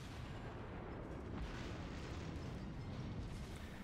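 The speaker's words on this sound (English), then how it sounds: "So let's just get back into firing." Warship naval guns firing in World of Warships: a dense, continuous roar of heavy booming salvos and rumble, steady and loud throughout, with no talk.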